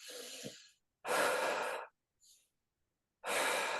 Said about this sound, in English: Deep diaphragmatic breathing, really allowing your belly to soften and taking full,